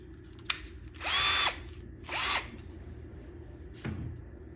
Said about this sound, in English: So let's try the driver first.